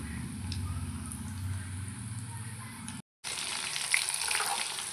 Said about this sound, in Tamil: அப்படியே போட்டு பொரிச்சு எடுக்க வேண்டியது.